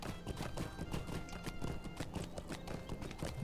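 Hooves of a horse named Barley clop through a bog in Lord of the Rings Online, a steady walking rhythm of soft, wet thuds with brief snorting or whinnying, continuous over ambient game sound and no speech.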